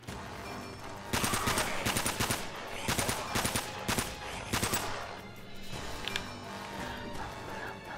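Bursts of rapid automatic gunfire in the video game Uncharted: Drake's Fortune, several sharp rattling volleys in quick succession with brief gaps between them, loud and close.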